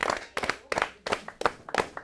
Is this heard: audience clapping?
yes